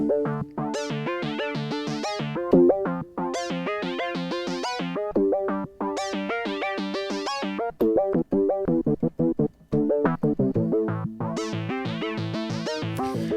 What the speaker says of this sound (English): It is actually the Micro-Freak coming through the audio input.